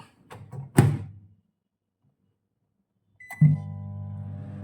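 A microwave oven with grill mode, loaded with chicken, gets a few clicks and a thunk as its door shuts, then a short pause, a beep, and a steady low hum as it starts running.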